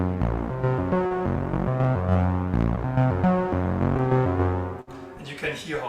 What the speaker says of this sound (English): There's also a Sawvox that I'm using, and that's this sound.